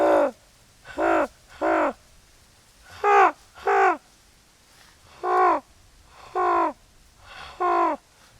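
Eight harsh, croaking caws arrive in uneven bursts, a human voice imitating a raven's call, close and fairly loud against a quiet background.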